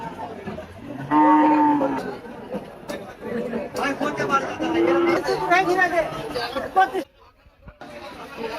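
Cattle moo loudly and repeatedly at Taherpur cattle market in Bangladesh, long drawn-out calls rising over constant crowd chatter and nearby talking.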